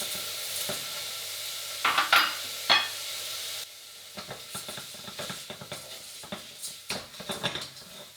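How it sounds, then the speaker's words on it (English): Rice and calamari sautéing in a pan under steady stirring, with a soft sizzle and sharp scrapes and clinks of a utensil against the pan, quieter and more scattered in the second half. "Remember to constantly stir at this point, is very important, and also adjust the fire while you're cooking."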